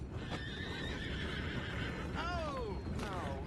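Horses in Red Dead Redemption 2 let out two clear whinnies, the second a long descending neigh, over steady game ambience with faint hoof clops.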